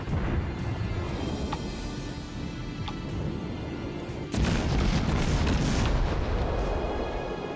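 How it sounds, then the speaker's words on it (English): In World of Warships, a warship launches a spread of torpedoes over a low rumbling engine and sea bed, with a few faint clicks before a sudden heavier whooshing burst of launch noise. "let's go ahead and fire off that spread of torpedoes"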